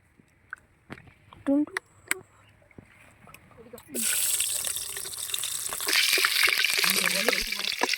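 Cold-pressed groundnut oil is poured into a cooking pot while making pepper chicken; after a few faint clinks and brief voice sounds, a loud, continuous sizzling hiss starts about halfway and holds to the end.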